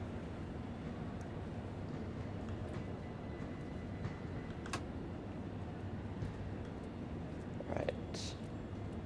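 Simulated train rumbling to a halt at Brighton station in Train Sim World 5, a steady low drone of wheels and traction under the cab, with occasional faint clicks and a brief hiss near the end; no talk.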